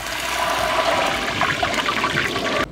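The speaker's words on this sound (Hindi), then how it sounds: "शोएब हम ये तेल जलाएंगे थोड़ा सा, इसमें से धुआं निकल गया है, अब इसमें हम थोड़ा पानी का छींटा मारेंगे हल्का सा।" Water splashes into smoking hot oil at a street food stall, bursting into a loud, continuous sizzling hiss with crackling pops that stays strong throughout before cutting off abruptly at the end.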